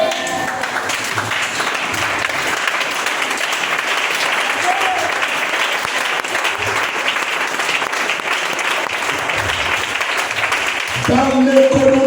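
A church congregation applauds continuously and loudly for the whole stretch, dense clapping filling the room, with a voice breaking in near the end.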